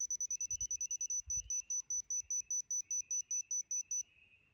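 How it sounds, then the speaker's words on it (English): A DOVOH laser level gives a steady series of high, electronic beeps repeating rapidly, then the beeping stops altogether once level, leaving quiet room tone with faint low thumps. "Let's see if it does a solid beep once it's completely level."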